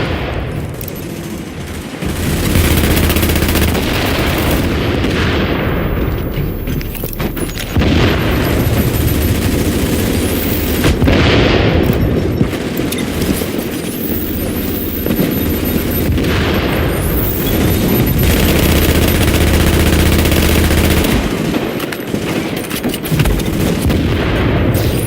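Heavy gunfire in a video game boss fight, with sustained loud bursts of automatic fire and booming explosions running almost continuously at close range.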